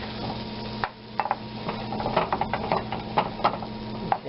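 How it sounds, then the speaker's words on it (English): Two tablespoons of butter melt and foam in a hot pan with a soft, low sizzle, broken by small clinks and scrapes of a utensil against the pan. "I'm going to take 2 tablespoons of butter, get that around there nice, and I love to see butter foam like that"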